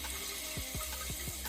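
Water refills a toilet tank with a steady rushing hiss, and a few soft gurgling drips plop beneath it.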